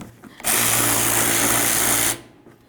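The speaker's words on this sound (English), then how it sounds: "Now at this point, let's remove the nut." A power tool, likely an impact driver or drill, spins off the wiper arm mounting nut on a 1994-2004 Chevy S-10, one loud sustained high-pitched whir of about two seconds that starts and stops abruptly.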